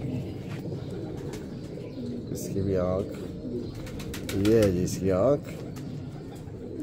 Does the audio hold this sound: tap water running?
no